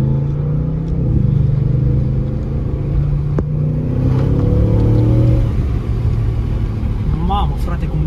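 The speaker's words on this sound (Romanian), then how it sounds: "hai să auzim împreună sunetul mașinii, pentru că e senzațional" An Audi RS7 engine revs and accelerates with a deep rising growl, loud and close, as a voice talks over it.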